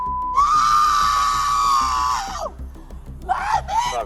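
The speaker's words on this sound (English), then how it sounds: "Stop screaming." A woman's loud, sustained scream, harsh and close, holding for about two seconds before trailing off, then a second shorter shrieking outburst, during a tense confrontation with police officers.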